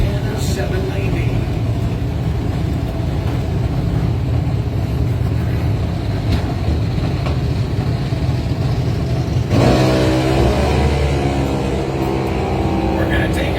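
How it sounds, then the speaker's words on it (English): A junior dragster roars down the drag strip at a racing event. The loud, continuous engine note surges near the end, with voices mixed in underneath. "We have a heads up junior dragster."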